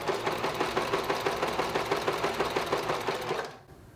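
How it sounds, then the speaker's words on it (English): A sewing machine stitches along a quilt seam with a rapid, even mechanical chatter for about three and a half seconds, then stops abruptly. "So I'm just going to start stitching using this seam as a guide."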